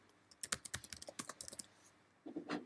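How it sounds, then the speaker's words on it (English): Quick, uneven bursts of key presses on a computer keyboard click close and quietly, followed by a short pause and a final cluster of taps. "they can actually type in think about it, type in their answer"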